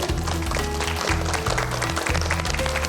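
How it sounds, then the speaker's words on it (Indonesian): Crowd applause greets an Islamic preacher invited onto a stage at a pre-dawn sahur show, a steady wash of clapping mixed under a loud, thumping music bed. "Mohon berikan tepuk tangan untuk Ustadz Dasat Latif"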